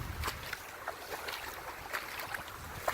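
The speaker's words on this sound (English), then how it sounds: "Look at all that water running." Meltwater from melting snow and ice rushes steadily outdoors, a continuous hissing wash with gusty wind noise over the microphone.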